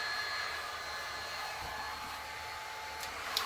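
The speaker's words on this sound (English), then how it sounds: "I'm just going in there with the low setting on the fan." A fan on its low setting blows over poured resin to clear bubbles, giving a soft, steady airy whoosh close by for the whole stretch. A couple of faint clicks come near the end.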